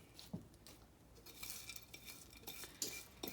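A spoon stirs crackers and butter into a chicken noodle casserole in a dish, producing soft, close scraping and clinking strokes at an uneven pace, quiet and without talking.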